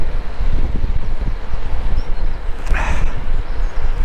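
Steady buffeting wind noise on a microphone while riding an ICE QNT recumbent trike along a straight road, a continuous low rumble with a brief brighter gust near the end.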